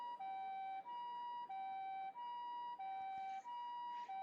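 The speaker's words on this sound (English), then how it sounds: "Another ambulance arrived on the scene, blaring its shrill siren." A two-tone ambulance siren in the video game ChäoS;HEAd wails steadily, alternating high and low notes in a regular rhythm, loud and clear with no talking.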